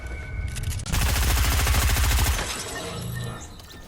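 Rapid machine gun bursts from the Fortnite video game, a loud, dense rattle of shots lasting about a second and a half before fading into quieter game ambience.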